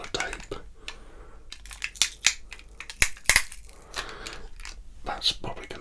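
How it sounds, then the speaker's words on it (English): Sellotape pulled and torn off the roll in a quiet studio, heard up close as crackly, sticky ripping bursts and sharp snaps, fairly soft and irregular over several seconds. "That's probably going to be a bit of a harsh sound, but sellotape is really important."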